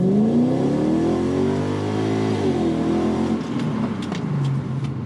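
Infiniti Q45 engine revving hard on a track, the revs hanging briefly before the transmission shifts up; a loud, close, sustained engine note with a falling pitch sweep at the shift, no talk.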